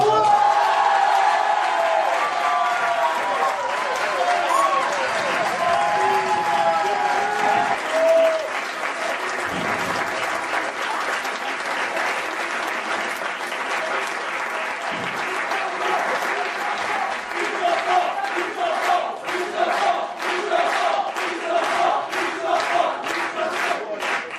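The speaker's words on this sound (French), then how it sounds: "je vais vous demander d'accueillir sous un torrent d'applaudissements" Loud, sustained applause from a large crowd fills the room, with scattered whoops and shouts rising through the clapping.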